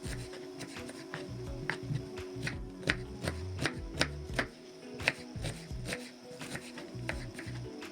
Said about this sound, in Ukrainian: Одну велику цибулину нарізаємо невеликими шматочками.